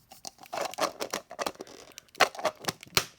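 Plastic pieces of a Cosmic Ghost Rider Marvel Legends motorcycle toy snapping together, a run of sharp close clicks and light rattling handling noises, several distinct snaps near the end.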